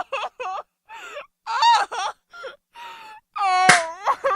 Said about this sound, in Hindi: अगली सुबह उसके दरवाजे पर किसी के रोने की आवाज आ रही थी।